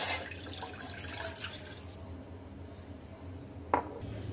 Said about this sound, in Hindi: गैस पर मैंने एक चाय का बर्तन चढ़ाया है और इसमें डाल रही हूँ मैं 3/4 कप के करीब पानी